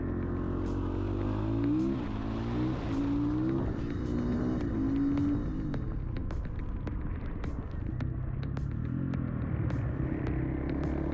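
A supermoto motorcycle accelerates hard on a race track, its engine revving up and shifting repeatedly in a loud, continuous rising drone with rumbling wind noise.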